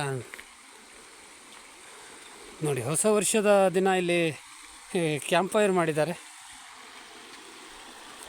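A river's water flows in a steady, faint, hissing trickle throughout, while someone speaks over it in two short stretches.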